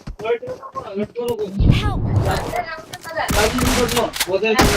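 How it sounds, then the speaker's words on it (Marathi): Rapid gunfire bursts crackle in an FPS shooter game, a DBS S12K in a 2v2 match, mixed with excited talking from a player over the shots. "मी नुसता गोळ्या मारत चाललोय भाई"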